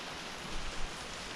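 Steady rain falls outside around a bus being stripped of its seats, a soft even hiss with a couple of slightly louder patters, faint and close.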